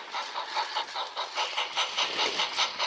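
A toy Thomas the Tank Engine train races downhill in a runaway crash scene, its wheels clattering in a steady rapid rhythm, close and fairly loud, with no voices.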